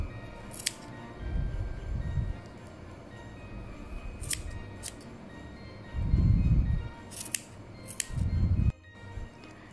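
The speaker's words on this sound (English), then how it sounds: "just take your scissors and start cutting up your pom-pom" Scissors snip through a yarn pom-pom for a crochet snowman ornament, a few separate cutting bursts with crisp metallic clicks between them, close and fairly quiet.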